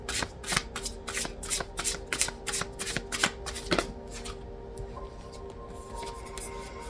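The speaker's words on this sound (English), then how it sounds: "All right, let's see what the tarot has to say." A deck of tarot cards is shuffled up close, with quick riffling bursts in a loose rhythm that fade to soft handling near the end.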